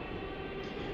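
In the Moscow Metro 2D simulator video game, a subway train rumbles in a steady, continuous drone with a constant hum, moderately loud and with no voices.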